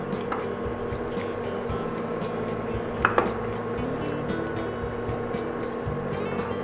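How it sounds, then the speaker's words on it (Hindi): Mutton goes into a pan of cooked onions and is stirred, giving a steady wet sizzle with soft squishing and a couple of sharp clinks of the spoon against the pan near the middle. "प्याज में मटन ऐड करते हैं"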